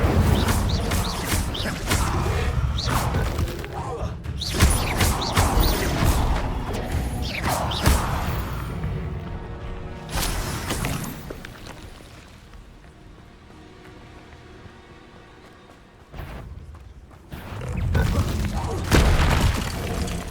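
An Incendio fire spell is cast in the Hogwarts video game, giving loud booming blasts and whooshes over dense game effects and music, easing to a quieter stretch before a final surge.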